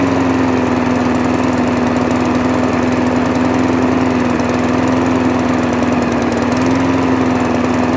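A small engine idles steadily and loudly, running a little rich as if on choke, with a constant low drone and a slight waver in pitch throughout.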